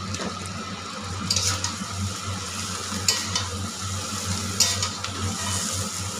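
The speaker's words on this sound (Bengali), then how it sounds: "চাউমিনটা আমার ভাজা ভাজা হয়ে এসছে" Chowmein fries in a pan with a steady, close sizzle and occasional stirring scrapes, continuous and moderately loud with no talk.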